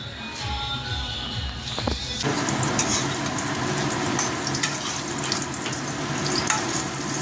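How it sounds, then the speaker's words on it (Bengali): Vegetables fry in a pan on a home stove with a loud, steady sizzling hiss that rises abruptly after a quieter, murkier opening and keeps crackling without a break. "আবার একটু ভাজাভুজি করছি"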